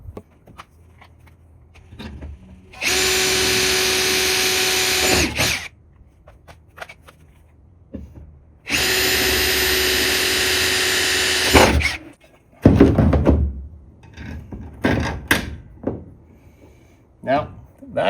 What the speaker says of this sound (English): we need to drill these out with a larger drill bit just on the surface